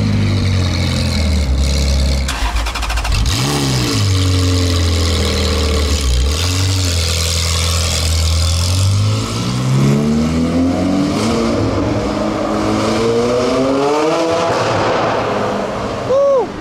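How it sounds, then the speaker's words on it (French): A McLaren 600LT supercar engine in Monaco, loud and close, idling with a deep rumble before swelling through rising revs and falling back, sustained throughout with no one speaking. "c'est un Uber McLaren à Monaco"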